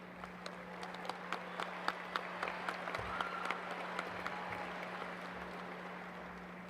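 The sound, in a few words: graduation audience applauding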